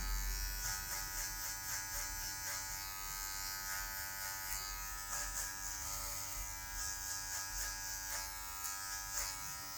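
Electric hair clippers fitted with a number 1 guard buzz steadily at close range while cutting afro-textured hair for a mid fade, with a continuous whine that rises and falls slightly as they move.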